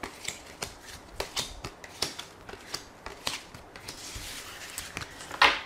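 A tarot deck is shuffled up close in a quiet room, with a rhythmic series of crisp riffling card snaps and soft flutters, ending in a louder final riffle.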